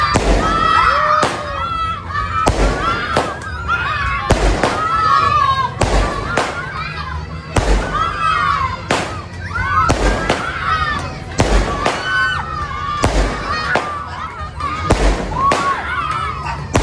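A 16-shot fireworks display on Christmas Eve in Bacolod fires in a repeating series of sharp shots, each bursting with a crackling pop, while a crowd's voices and cheers carry underneath.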